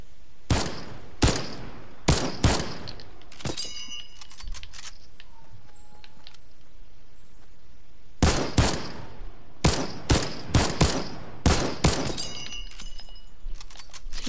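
Gunfire in the video game Fortnite comes in two clusters of sharp, loud shots: a rapid volley early on, a pause, then another string of repeated bursts.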